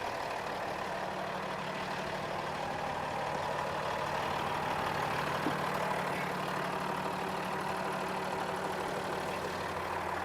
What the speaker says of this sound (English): You guys might hear this truck is running.